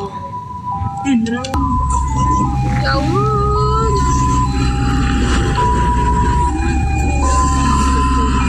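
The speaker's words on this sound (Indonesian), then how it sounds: "inilah iring-iringan ambulans yang mengevakuasi belasan korban tewas" A convoy of ambulances evacuates victims after an explosives disposal blast in Garut, West Java, with loud overlapping wailing and two-tone sirens stepping up and down over heavy engine rumble, while a voice talks over them.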